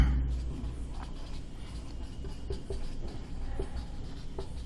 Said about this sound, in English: now write the formula for characteristic equation